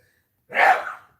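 A single short, breathy sneeze burst, fairly close and moderately loud, alone in a quiet room.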